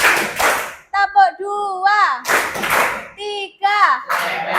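Children clap their hands in a counting clap game, loud sharp clusters of claps trading off with singsong children's voices chanting along in rhythm, close to the listener in a classroom.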